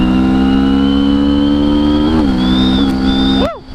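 A Kawasaki Vulcan S 650 motorcycle engine holds a loud, steady high rev up close, its pitch dipping and rising through brief shifts before the throttle snaps shut and the note falls away.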